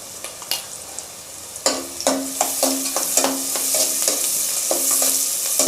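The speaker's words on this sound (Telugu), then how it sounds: "అదే ఆయిల్లో వేసానండి మళ్ళీ ఆయిల్ వేయలేదు ఫ్రై చేసిన ఆయిల్లోనే వేసాను" Onions fry in reused oil with turmeric while a spoon stirs them, with repeated clicking scrapes against the pan over a rising, steady sizzle.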